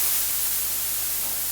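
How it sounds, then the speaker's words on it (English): High-pitched blue noise from a Sapel synth module, used as a ready-made hi-hat source, plays as a steady bright hiss with a faint low hum beneath it. "blue noise from Sapel,"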